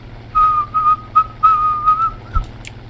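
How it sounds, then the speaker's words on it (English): A person whistles through pursed lips, a short run of clear, steady single-pitched notes with small pauses between them, close to the mic over a low background hum. "I have to whistle by, like, pursing my lips, essentially."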